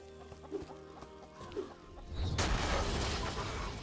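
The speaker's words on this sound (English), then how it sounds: "Chickens." Video game chickens cluck a few times over a low tonal hum in an open-world RPG, then a loud rushing burst of noise swells and holds to the end.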